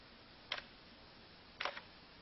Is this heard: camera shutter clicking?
yes